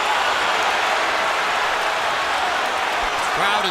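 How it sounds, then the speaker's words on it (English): Boxing arena crowd roaring steadily through the Mayweather vs Mosley fight, a dense, loud wash of cheering that holds level from start to finish, with a brief whistle-like tone near the end. "Crowd is now rising in the excitement"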